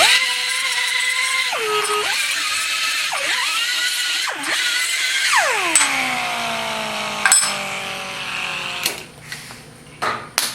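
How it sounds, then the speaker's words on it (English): An angle grinder fitted with a Scotch-Brite pad works over metal parts for a DIY hole punch build: a loud whining motor that dips in pitch under load several times, then spins down, followed by clanks and knocks. "we're going to just use a Scotch-Brite pad here on an angle grinder as well"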